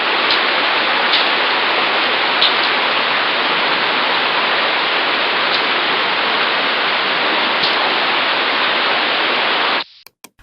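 Steady, dense rain hisses evenly for about ten seconds as a weather sound for a classroom lesson, a constant broadband wash that cuts off abruptly near the end, with no voices.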